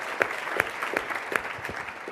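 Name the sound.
conference audience applause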